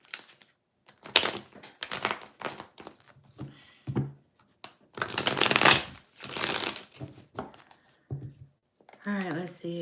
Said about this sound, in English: This is the only deck that I can't fucking shuffle.